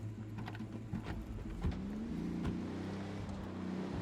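A vehicle in Ghost Recon Wildlands pulls away. A low engine drone rises steadily in pitch as it accelerates, with a few clunks near the start and a continuous rumble that stays fairly close.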